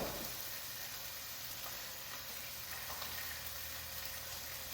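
Chicken sears in a very hot pan, giving a faint, steady hiss and sizzle with occasional soft crackles throughout and no voices.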